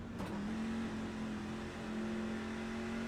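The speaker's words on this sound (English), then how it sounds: "There's a car leaving the pit lane." Race car leaving the pit lane in the iRacing video game at Homestead, a steady engine drone holding a constant pitch under pit speed limit, loud and continuous.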